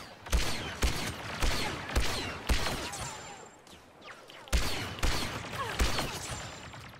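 Blaster fire from a Specialist's rifle in Star Wars Battlefront 2, a rapid series of sharp, loud laser shots in two bursts with a short lull between, zipping whines and echoing tails trailing each shot.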